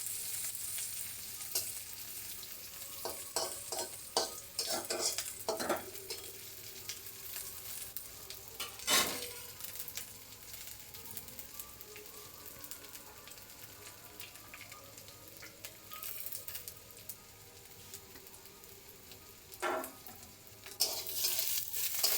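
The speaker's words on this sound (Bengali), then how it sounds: "পেঁয়াজগুলো হালকা নাড়াচাড়া করে নেবো তেলের মধ্যে" Sliced onions sizzle in hot oil in a pan, a soft continuous frying hiss broken by occasional sharp scrapes and clatters of the spoon as they are stirred, moderately close and with no voices.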